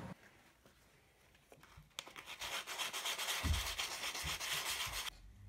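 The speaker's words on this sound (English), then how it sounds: "Sand down the Bondo with 120 grit and then 220 grit sandpaper." Sandpaper rubs over Bondo filler on a joint between a PVC elbow and pipe, first 120 grit then 220 grit; quiet scattered scratches give way to a steady, close rasping stroke that runs for several seconds before stopping.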